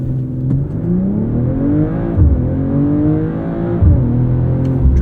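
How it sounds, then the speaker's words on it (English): A 2023 BMW M340i xDrive launches hard under launch control, its engine note rising loud and close through several gears, with brief dips at each upshift. "Let's do a quick launch control."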